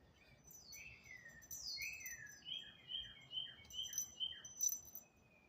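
A small bird chirps and tweets indoors, faint and thin at first, then in a quick run of bright repeated peeps toward the end, with no talk over it.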